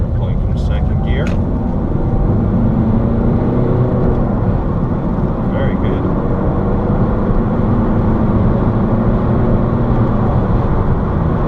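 A 2010 Ford Focus Style pulls hard from second gear on a bypass, its engine droning loudly and steadily under heavy road and wind noise from inside the cabin, with a few brief high chirps early on.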